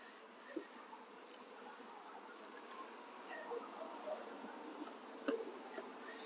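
Honeybees hum in a soft, steady drone as they are shaken off a plastic-foundation hive frame, with faint clicks and small knocks scattered through the quiet buzzing.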